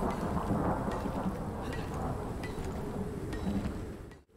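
A storm rages in the survival game Icarus, with steady, dense rain hissing and a low rolling rumble of thunder underneath, close and loud throughout before cutting off abruptly at the end.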